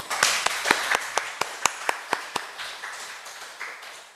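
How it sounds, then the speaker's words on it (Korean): A church congregation at a Wednesday service claps after a hymn. Several people clap in a loose, fairly steady rhythm of distinct claps that soften and scatter toward the end. "우리 박수 한번"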